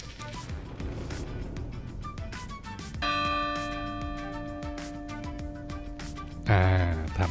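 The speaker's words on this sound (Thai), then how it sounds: "ถูกต้องก็จะมีเสียงะระฆังดังขึ้นมา" A bell rings out with a sustained, ringing tone over a busy background of sounds in the video game The Division 2, followed by a brief louder chime near the end.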